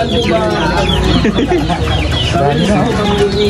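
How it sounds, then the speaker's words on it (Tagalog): Loud, busy clucking from a flock of chickens close by, overlapping calls with a voice or two mixed in. "Marami yung puro manok dito"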